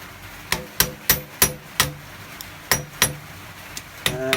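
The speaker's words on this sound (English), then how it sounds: "you are hitting this as strong as you can, for example with hammer" A hammer strikes a rear shock absorber again and again, giving about a dozen sharp metallic impacts at an uneven pace, each one ringing briefly. The blows are close and loud, and no one talks.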